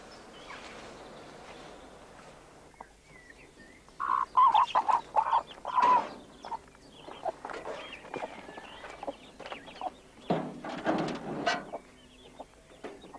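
Chickens at a recycled-wood chicken house on a permaculture plot cluck and squawk in bursts, some loud and close, over a quiet outdoor background, with busier clucking toward the end.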